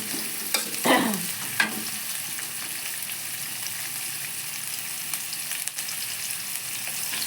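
Chopped onions fry in a pan for khichuri cooked during rain, giving a steady, close hiss of sizzling. A couple of brief stirring scrapes come near the start, with no one talking.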